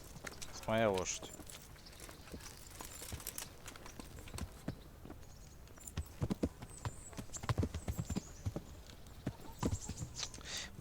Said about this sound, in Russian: Моя лошадь.